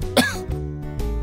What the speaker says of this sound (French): je me suis mis à tousser